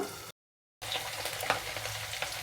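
Carrot, onion and potato frying in a pan for a pea curry give a steady close sizzle with light stirring scrapes, broken by a brief silent gap near the start.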